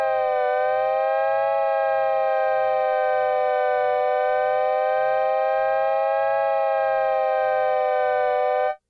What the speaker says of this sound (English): Let's go to the LFO and slow it down even